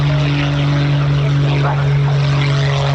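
Richard Goodwin's aerobatic propeller plane at an air show, flying low in a knife edge with a loud, steady engine drone and a strong sustained buzzing tone, close and continuous.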